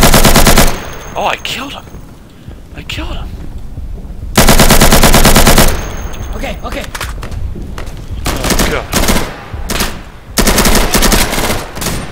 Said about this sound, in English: Oh, I hear so much gunfire.